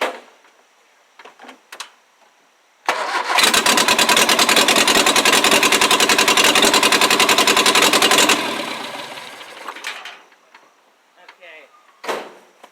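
A 1959 Morris Minor 1000 with an ignition fault, running on two cylinders, cranks and fires into a loud, steady, slightly uneven idle for several seconds, then settles lower and cuts off; faint handling clicks before and after.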